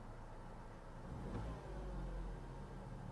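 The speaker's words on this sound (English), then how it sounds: "Ignition on. A little bit of a whine there." A Mitsubishi car's engine starts with the ignition and settles into a quiet, low hum with a slight whine, faint and close, with a brief rise in level partway through.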